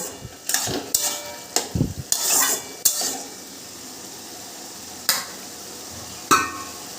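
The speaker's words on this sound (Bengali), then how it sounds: "এবার আমি এর মধ্যে দিয়ে দিচ্ছি ভেজে রাখা আলুগুলো, দিয়ে ভালো করে আরেকটু নাড়াচাড়া করে নিচ্ছি।" Fried potatoes get stirred into an ash gourd curry in a pan, sounding as a series of sharp metal scrapes and knocks of a spoon against cookware over a soft background sizzle, irregular and close, with no talking.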